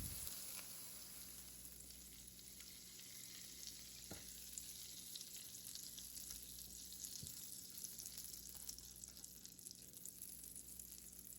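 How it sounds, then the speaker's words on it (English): Fruit slices caramelizing in a pan with butter and brown sugar, a faint, steady sizzle and frying crackle running throughout with a couple of soft stirring clicks and no talk. "I am going to caramelize the slices. For that I need butter and brown sugar."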